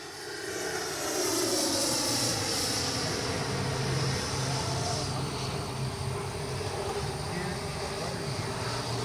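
An FMS Avanti S 90mm electric ducted-fan RC jet flies continuously, a loud steady roaring whine with swelling sweeps of pitch as it passes at speed, no voices over it.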